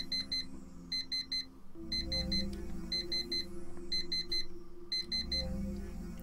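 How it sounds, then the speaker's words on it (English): An alarm clock rings in the video game Actual Sunlight. Bursts of high, rapid electronic beeping repeat in regular groups over a low background hum, with no talking. "Taking a bit longer to turn off that alarm there."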